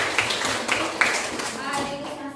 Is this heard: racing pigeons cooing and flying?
no